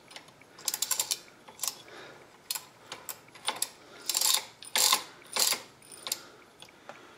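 A restored Sturmey Archer S5 bicycle hub gear is spun by hand after assembly. It gives bursts of crisp, close ratcheting clicks that vary in speed and loudness, with short gaps between them.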